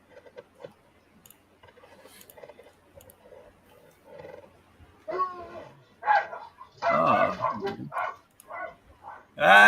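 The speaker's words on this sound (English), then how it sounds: "Keep it down, doggies." Small pet dogs bark in bursts indoors, a few yelps early on, then louder clustered barking toward the end, with a voice talking quietly under the first part.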